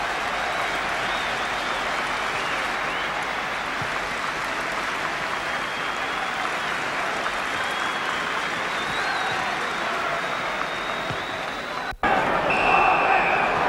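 A 38,000-strong football stadium crowd at White Hart Lane applauds Dave Mackay, a steady, dense roar of clapping sustained throughout, briefly cut and resuming even louder with cheering near the end.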